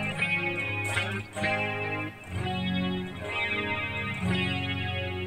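Electric guitar fitted with GFS VEH pickups, coil tap switched off, plays loud sustained distorted chords and notes with a chorus-like shimmer, three strummed phrases in a row with brief gaps, no voice.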